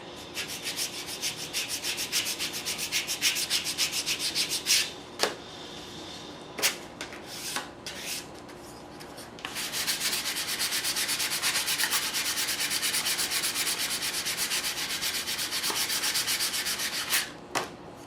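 Steady rhythmic rasping of sandpaper rubbing the edges of a wooden part for a 12-string guitar, close by, with a few brief pauses and knocks before it resumes at a constant pace.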